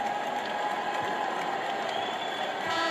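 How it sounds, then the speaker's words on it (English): In an NBA 2K26 playoff game at Madison Square Garden, the arena crowd gives a sustained standing ovation: a dense, even wash of applause and crowd noise with no clear breaks. "Brunson goes out to a well-deserved standing ovation from this Garden crowd"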